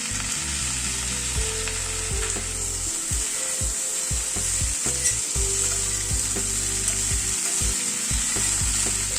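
Chopped tomatoes fry and are stirred in a pan with pointed gourd for a vegetable curry, a steady loud sizzle broken by repeated scraping spoon strokes, with no voices.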